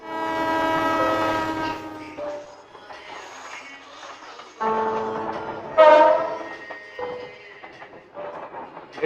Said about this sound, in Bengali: এই ট্রেনটা মনে হয় যাবে ফেনীতে।